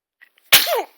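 A baby gives a single sharp sneeze, a sudden close burst preceded by a couple of faint breaths and followed by a short squeaky trailing sound.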